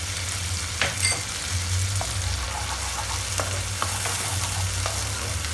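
Ginger paste is stirred into a simmering gravy in a pan, with a continuous sizzle and bubbling under several sharp spoon clinks and scrapes, and nobody speaking.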